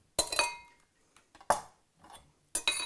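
Crackers tossed with salt and pepper in a bowl, heard as a few sharp clinking scrapes against the dish in bursts, with short quiet gaps between them.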